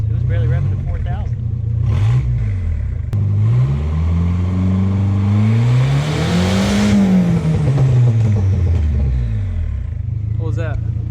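A miniature turbocharged Hemi engine revs up and back down in smooth rising and falling sweeps, loud and close, with voices speaking briefly at the start and end.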